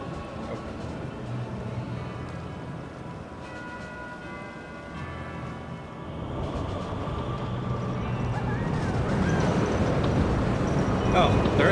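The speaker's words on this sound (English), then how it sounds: "that was nice timing with the mine train going by" A mine train roller coaster in Planet Coaster, set in a western winter park, rumbles past, its low rolling roar swelling louder through the second half over steady park ambience.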